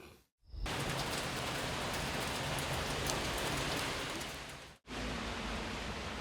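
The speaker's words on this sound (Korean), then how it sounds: "서울에도 굵은 비가 내리고 있다" Heavy rain pouring down in Seoul, a dense, loud, steady wash of falling water that fills the scene without pause, broken only by two brief cuts to silence.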